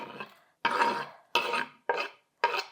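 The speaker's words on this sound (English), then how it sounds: "Get a whisk and we're going to blend this together so I can get that cornstarch incorporated." A whisk blends cornstarch into a sauce in a bowl for slow cooker creamy Tuscan chicken: five loud, scraping, stirring strokes set apart by short pauses, close by with no talking.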